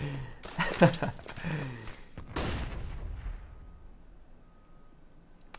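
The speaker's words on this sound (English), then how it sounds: "that grenade sound keeps catching me off guard." A grenade goes off in the Counter-Strike video game as a sharp, loud blast with a rumbling tail, followed by a second hard impact, during a tense round with other gunfire and game sounds around it.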